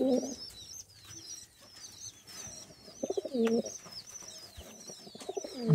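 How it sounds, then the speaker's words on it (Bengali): Several pigeons, one a male, coo in repeated low rounded bursts close by in a home pigeon collection, with faint chirps and a quiet voice in the background. "আরো একটা কবুতর, এটা নর না?"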